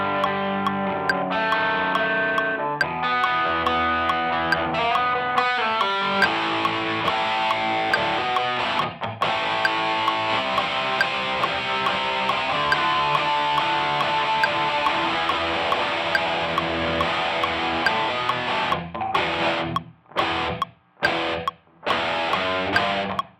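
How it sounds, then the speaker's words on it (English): Heavily distorted electric guitar in a rock track plays sustained riffs with rhythmic chugging, loud and continuous, ending in a few sharp stops and stabs. "that's the first guitar part recorded"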